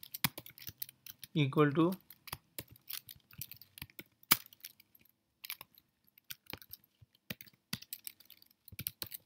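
Fast clicking keystrokes on a computer keyboard as Python chatbot code is typed, irregular bursts of sharp taps running the whole time, with a brief spoken phrase early on.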